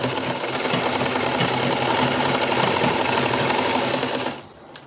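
A sewing machine runs a steady double line of stitching along a newborn baby dress, a continuous close mechanical whir that stops abruptly near the end.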